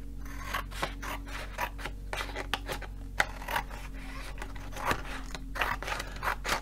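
Scissors snip repeatedly through diamond painting pieces, a close, steady run of crisp cuts and rasping blade slides with a continuous low hum underneath.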